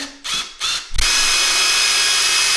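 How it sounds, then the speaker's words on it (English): A power drill with a 1/4 inch bit revs twice in short bursts, then bores into the wall in a steady loud whine during installation of frameless glass sliding shower doors, close and continuous. "you're gonna use the 1/4 drill bit to drill down"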